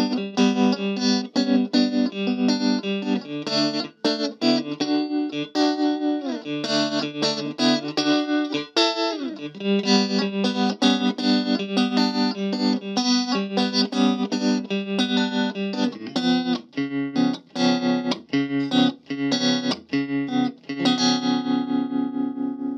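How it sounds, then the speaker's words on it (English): Electric guitar played through a Gibson GA-15RVT 1x10 combo amp with a pulsing tremolo, chords and notes wavering rhythmically in volume, with a slightly gritty, distorted edge throughout. "So the tremolo, turn it on, you kind of get an idea"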